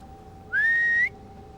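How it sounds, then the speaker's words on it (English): A person whistles one sustained note through pursed lips as a signal. The note rises briefly at the start and holds clear and loud for about half a second over a quiet background hum. "Just signal me with a whistle, okay?"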